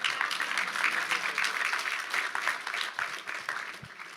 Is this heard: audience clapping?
yes